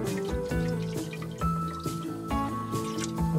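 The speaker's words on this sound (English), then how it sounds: "I'm gonna pour in some of my bottled water here." Bottled water is poured into a pot on a cooktop, a steady close pouring stream with rising, gurgling tones as the pot fills.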